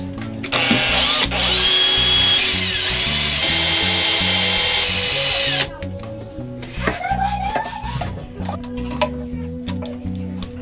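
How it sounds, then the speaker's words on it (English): A power drill fitted with a 90-degree right-angle bit adapter whirs loudly and steadily for several seconds in a tight space, then stops, followed by scattered clicks and handling noises nearby. "a 90 degree angle drill bit adapter"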